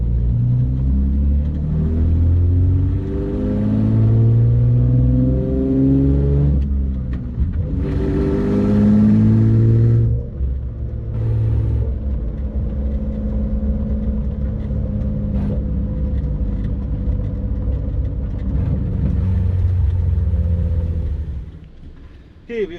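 A car engine with open headers revving under partial throttle, a loud deep rumbling drone with rising and falling pitch sweeps as it accelerates, close by and continuous, easing off near the end.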